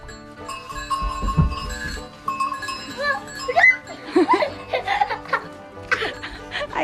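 Newborn baby goats bleat on a farm on a hot day, several short cries scattered close by amid laughter and chatter from people nearby.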